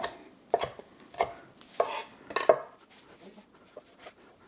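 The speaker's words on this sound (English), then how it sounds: "I'm going to continue cutting the rest of the kale now." Kale being cut with a knife on a board, a handful of sharp, irregular chops with slicing rustles in between, close and clear with no talk.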